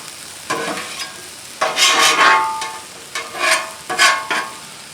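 Pulled pork hash fries on a flat top griddle with sizzling bursts and scraping stirs, several loud surges rising and falling over a quieter steady crackle.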